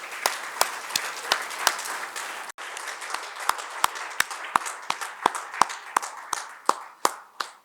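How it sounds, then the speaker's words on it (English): Scattered audience clapping at a budget analysis talk: a small group claps in loose, distinct beats, fairly close and unhurried, with a brief break partway before the claps resume more sharply. "give a big round of applause for Shri Harinbhai Pathak"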